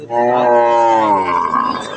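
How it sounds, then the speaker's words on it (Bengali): A cow at a rural cattle market gives one long, loud, close moo that rises and then trails off over about two seconds. "গরু"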